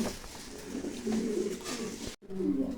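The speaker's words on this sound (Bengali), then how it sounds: "অনেক সুন্দর হাই কোয়ালিটির একটা কবুতর।" Pigeons coo at a farm housing pairs of high-quality fancy pigeons, the soft throaty calls close and steady, briefly cut off by a short gap before resuming.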